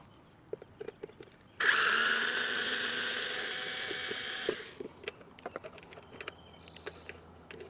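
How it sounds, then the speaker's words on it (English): A power driver whirs for about three seconds while removing housing screws on a Honda Odyssey's brake light assembly, loud and close, with scattered small clicks and taps before and after. "You can remove these screws with either an 8mm socket or a Phillips head screwdriver"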